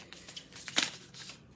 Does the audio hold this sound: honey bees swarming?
no